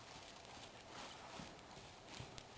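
A horse trots in side reins during a training session, its hoofbeats a steady, rhythmic clip-clop over a constant background hiss.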